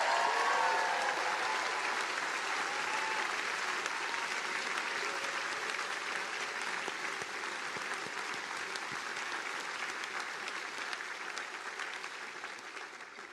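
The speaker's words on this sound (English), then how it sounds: "So how about we give a round of applause to your parents," Audience at a Harvard ceremony applauding, a steady dense wash of clapping from a large crowd that holds evenly for over ten seconds and slowly eases off.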